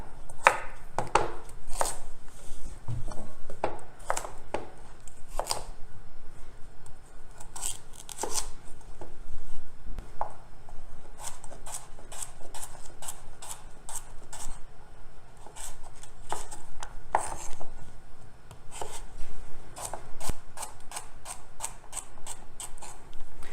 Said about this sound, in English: next we're gonna cut the carrot